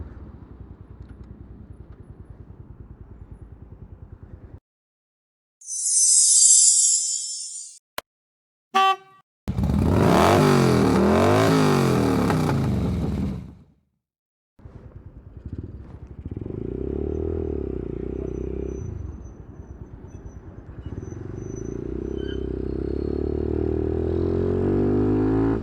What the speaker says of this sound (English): Today we're on a Yamazaki Nooma 125cc motorbike, and we're just doing a test ride for a customer.